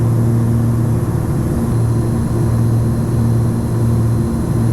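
Twin piston engines of a Cessna 340 on short final drone steadily and loudly, their RPMs out of balance, giving a constant hum with a faint beating tone throughout and no voices.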